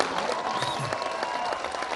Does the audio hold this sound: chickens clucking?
no